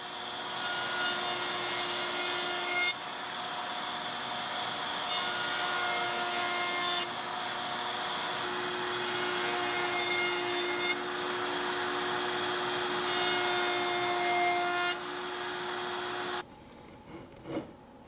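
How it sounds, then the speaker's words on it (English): A router table with a 1/4 inch round-over bit cuts the edges of wooden boards for a cheese cutting board, a loud steady high whine with short breaks between passes, ending in a quieter tail with small knocks. "At the router table, I'll set up a 1/4 inch round over bit so that I can round over the top side of each of the boards"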